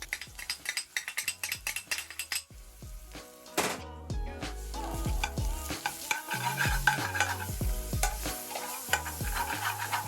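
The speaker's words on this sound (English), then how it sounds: "So you just want to cook off that garlic. You don't want to burn it." Garlic fries in a pan for a madras curry, with repeated stirring scrapes and clinks over a soft, continuous sizzle.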